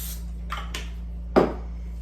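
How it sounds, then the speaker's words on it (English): Cooking spray hisses onto a cookie sheet for peanut butter cookies in a home kitchen: a few short, soft bursts followed by one stronger spritz, close, over a steady low hum. "gonna grease our cookie sheet."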